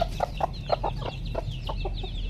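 Paroakan or Parawakan chickens, free-ranging, cluck repeatedly during feeding in a quick, uneven series of short, close calls over a low background hum, with no talking.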